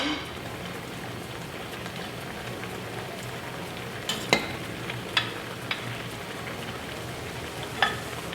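Eggplants stirred into a pan of Thai green curry, a steady soft sizzle and bubbling with a few sharp clinks of a utensil against the pan near the end.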